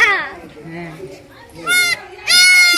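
A young goat kid gives a few high, harmonic bleats, two loud cries near the end, with voices and talk heard around it.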